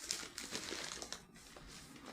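A plastic packet is handled in a home kitchen while food for a spaghetti meal is being unpacked, giving a steady, close, soft crinkling and rustling with no talk over it.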